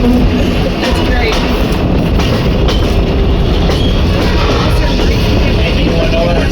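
The Cincinnati dinner train rolls along the rails with a loud, constant rumble, faint rhythmic wheel clicks and occasional squeals, while people talk over the noise inside the car.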